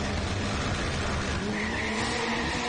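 Turbocharged drag race cars, a Chevette with an AP turbo engine against an Opala six-cylinder turbo, roar loudly at a drag strip in Goiânia, with continuous dense engine noise and a rising whine near the end.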